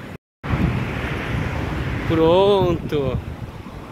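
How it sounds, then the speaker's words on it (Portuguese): Strong wind buffets the microphone at an open beach in Maceió, a steady roaring broadband rush throughout, with a person speaking briefly over it. "Tá ventando, hein? Maresia forte."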